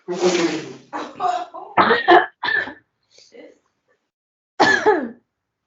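A person coughs and clears their throat in several harsh bursts, close up, with pauses in between and a final rough cough after a silence.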